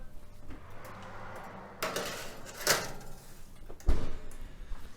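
A tray of brushed miso salmon goes into a home kitchen oven: a few sharp metallic clanks and a thud as the rack slides and the oven door closes, with quiet room tone between.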